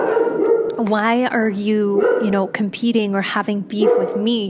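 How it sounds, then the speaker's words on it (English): A dog barks and whines loudly and close by, yipping in repeated bursts while a person keeps talking over it. "sorry, that's my dog."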